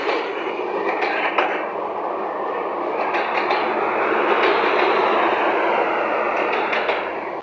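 A train passes close by, a loud continuous rumbling roar with rhythmic metallic clatter of wheels over rail joints, swelling slightly mid-pass and holding steady, with no speech.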